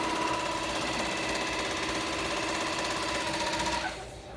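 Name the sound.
Barudan PRO3 single-head embroidery machine running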